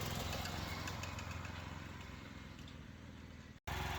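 A Progarden Campo 1844 petrol tiller with an 18 hp engine drives along in third gear, its engine a steady, close, loud drone with a rhythmic low throb that continues unbroken before cutting out briefly near the end.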